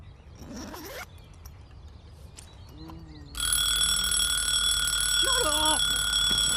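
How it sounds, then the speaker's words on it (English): An alarm clock bursts into a loud, continuous metallic ringing to wake someone in a house, starting abruptly partway through after quieter room sounds and a short voice, and holding steadily to the end. "An alarm clock."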